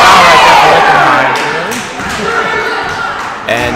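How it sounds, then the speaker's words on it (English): West Milford high school basketball crowd in a gym reacting unhappily to a foul, a loud burst of shouting and booing that fades, with a few thuds and scattered voices rising again at the end. "that is some unpleasantment from the West Milford crowd"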